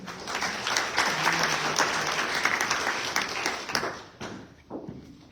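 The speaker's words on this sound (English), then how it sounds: "Give her a round of applause, my friends" Applause from a town hall audience for a resident called up to speak, a lively crowd clapping that holds for about four seconds and then thins to a few scattered claps and thumps.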